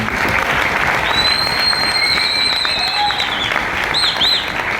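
A large seminar audience at a direct-selling motivational talk bursts into loud, continuous applause, dense clapping with whistles rising above it throughout.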